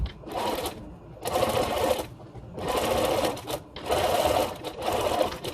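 A sewing machine stitches a fabric face mask, whirring in four steady bursts with short pauses between as the presser foot is lifted and the fabric turned, close and clear with no talking.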